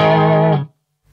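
Electric guitar played through an amp set at the edge of distortion, a single loud, rich chord ringing with slight grit for about half a second, then cut off into silence.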